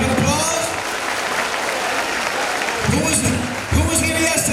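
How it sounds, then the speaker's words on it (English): Audience applause at a 2018 high school graduation ceremony, a broad sustained clapping wash with bursts of cheering and voices rising through it. "Can we give an applause?"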